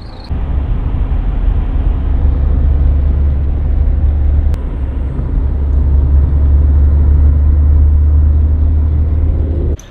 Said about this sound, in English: we just um, caught this sharing taxi over here to the main road in Fatick